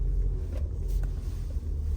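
Audi S5 engine idling steadily after a fuel pump replacement, a low continuous rumble close by with no sharp revving, holding even throughout.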